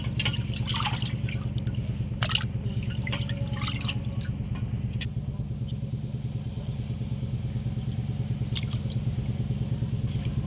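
Fish being washed clean in water for a gongura fish curry: soft splashing and trickling over a constant low motor-like hum, with scattered small clicks and sloshes throughout.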